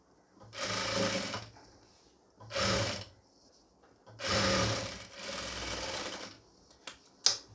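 A sewing machine stitches a pleated nightie in four bursts of close, steady whirring separated by brief pauses, with a sharp click near the end.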